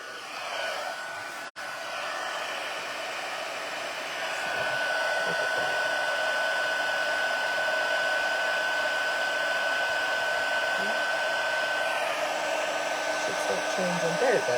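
A heat tool sets embossing powder over sticky Versamark ink on stamped card, its steady loud fan-heater whoosh and whine running continuously after a brief cut near the start, with no talk.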